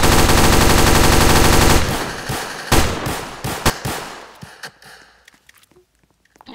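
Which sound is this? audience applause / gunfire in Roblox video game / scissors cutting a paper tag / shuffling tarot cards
gunfire in Roblox video game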